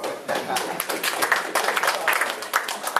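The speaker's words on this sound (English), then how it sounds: "Give my man a round of applause." A live audience breaks into a round of applause for a man on stage during a talk, a dense patter of clapping that runs steadily for several seconds with voices mixed in.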